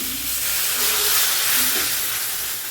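Water poured into frying spice paste for a Bengali egg curry, giving a loud, steady, close steam hiss that lasts throughout.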